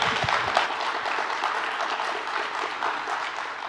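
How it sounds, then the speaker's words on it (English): Sustained, even audience applause fills a National Women's History Month event after a panel, a steady wash of clapping from a crowd with no break. "And could you give them a round of applause?"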